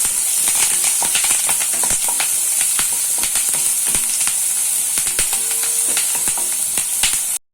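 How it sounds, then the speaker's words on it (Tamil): Onions, green chillies and curry leaves sautéing in a pan for kudal (goat intestine) gravy: a loud, steady, close sizzle and hiss, broken by frequent small clicks and scrapes of stirring, with no talk. "வெங்காயம், பச்சை மிளகாய் 2 சேர்த்து நல்லா வதக்கிக்கலாம்."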